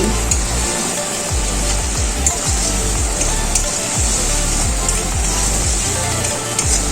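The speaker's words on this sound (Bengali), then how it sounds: "এবার নেড়ে চেড়ে নিচ্ছি।" Ground spices with green chilli paste, chilli powder, salt and sugar fry in a pan for a fish curry, a loud close sizzle under rhythmic scraping stir strokes repeating about every second, without talk.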